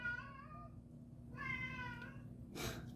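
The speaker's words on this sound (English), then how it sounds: "Just ignore my cat." A house cat meows twice nearby, the first a drawn-out call and the second a shorter one, followed by a brief rustle in a quiet kitchen.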